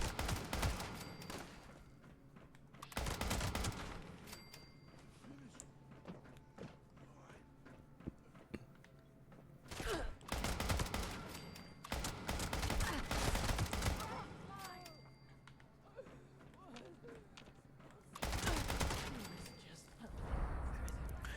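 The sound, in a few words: AK rifle gunfire in a video game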